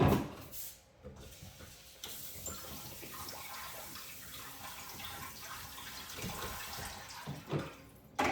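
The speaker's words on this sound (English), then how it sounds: "I'm just gonna give this a quick rinse." Rice being rinsed under running water from a kitchen tap, a steady close splashing hiss with small clatters and shifts in the flow.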